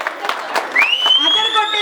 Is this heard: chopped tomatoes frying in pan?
no